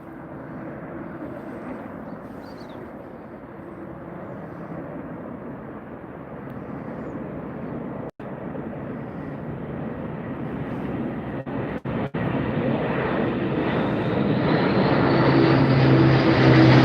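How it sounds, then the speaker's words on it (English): An Airbus A400 military transport plane flies through the Mach Loop valley, its propeller and engine roar rising steadily as it nears, growing loud and broad toward the end. "Got an A400 coming through."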